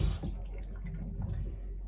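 A newly installed faucet running in the head of a 1984 Chris-Craft Catalina 381 boat; a soft, close water splash and trickle with low gurgling, steady and fairly quiet.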